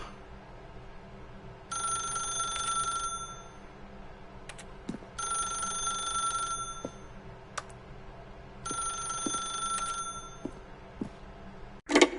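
A telephone in the video game The Stanley Parable rings in three long bursts of bright electronic trilling, separated by pauses over a quiet room hum, ending with a sharp click.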